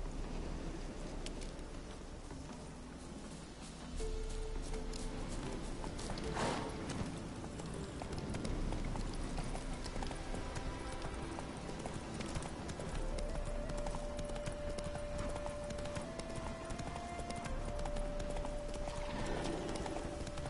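Roach, the horse in the video game Witcher 3, gallops with steady clip-clop hoofbeats over a continuous game soundscape, with a brief whinny and possible rain in the background.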